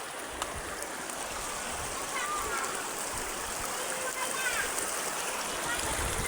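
Cold stream water flowing steadily at a bathing spot, a continuous close rush with small splashes, voices faint in the background.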